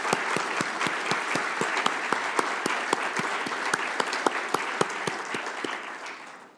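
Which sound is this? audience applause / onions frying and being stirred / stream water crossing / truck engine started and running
audience applause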